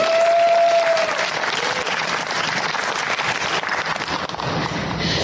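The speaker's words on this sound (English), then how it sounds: "a lovely hand of applause to this lady" Audience applause fills a hall in welcome for a woman on stage, a dense, steady wash of clapping held at full strength for about five seconds with no talk over it.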